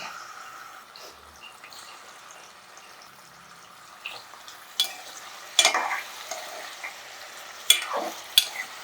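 Paneer cubes fry lightly in a pan for palak paneer, giving a faint, steady sizzle that is joined later by a few sharper clinks and stirring scrapes.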